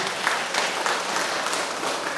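Brief round of clapping from the congregation at a Korean Buddhist first-of-the-month dharma service, a short steady patter of many hands, moderately loud.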